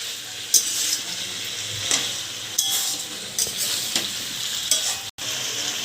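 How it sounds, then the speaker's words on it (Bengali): Young jackfruit is stirred and sautéed with spices in a pan, producing a continuous sizzle broken by recurring sharp spatula clacks against the metal, close and moderately loud. "এবার মশলাটার সাথে ভালো করে কষিয়ে নেব"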